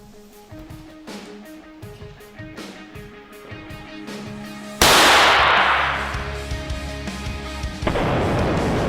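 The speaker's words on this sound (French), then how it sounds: "On prend le numéro 2 avec de la peinture, hop, on l'allume et on fait un bang" A firecracker blasts inside a paint-coated object with one sudden loud bang, followed by a long, fading wash of noise. Before it, a steady beat of musical notes plays; a second, smaller burst comes near the end.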